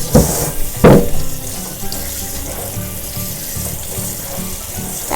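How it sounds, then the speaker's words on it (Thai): Taro roots are rinsed of soil under a running kitchen tap, a steady flow of water hissing into the sink with a couple of louder splashes near the start as the tubers are handled. "ล้างน้ำเอาดินออกนะ"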